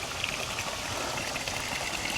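Continuous mountain runoff streaming down from above, a steady broadband rush and trickle of water with no breaks, moderately close.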